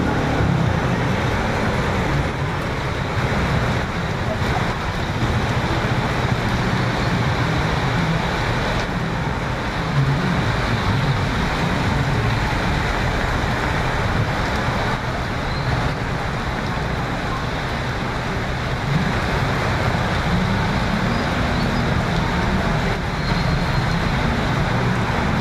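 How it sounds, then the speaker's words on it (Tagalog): Heavy rain pours steadily while riding through traffic toward the town center of Daet, a dense unbroken hiss of rainfall mixed with road and vehicle noise that stays loud and constant throughout. "Inabot tayo ng ulan."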